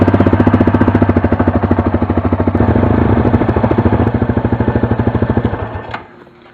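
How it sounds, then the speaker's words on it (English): A Yamaha Grizzly ATV engine runs close and loud in a fast, even chugging pulse while warming its oil, then cuts off abruptly near the end, leaving a brief rattle. "start up your ATV and let it run for 2 to 3 minutes to warm up the oil"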